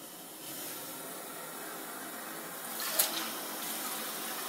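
Water from a Hydro Cleanse RD-101 bidet runs as a soft, steady hiss, swelling slightly after the first half second, with a brief clunk near the end.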